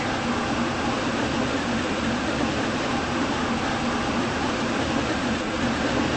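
Passenger train running in the Roblox SCR rail game, a Class 357 electric unit on a ride from Leighton City toward Rocket Parade, with a steady, loud broadband rumble and hum that stays even and continuous.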